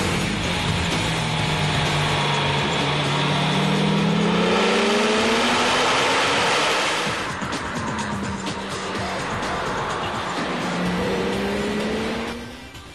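A Porsche GT2 roars off the line under launch control, engine climbing through rising revs and gear changes, loud and close, before dropping away at the end.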